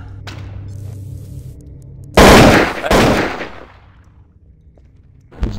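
Two loud, close bursts of gunfire in the game Garry's Mod, the first longer and the second following right after, then fading into a quiet hum.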